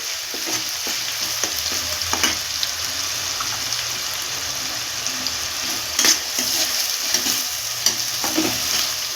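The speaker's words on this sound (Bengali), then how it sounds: "পেঁয়াজ বাটাটা একটু ভাজতে হবে।" Onion paste fries in a pan for a Bengali chicken curry, a close steady sizzle with frequent stirring scrapes and small crackles.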